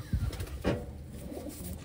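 Soft pigeon coos sound twice in short bursts, close by, over a low steady background hum.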